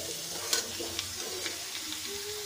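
Potato pieces frying in hot oil while a drumstick curry is cooked, a soft steady sizzle with a few faint crackles and stirring clinks.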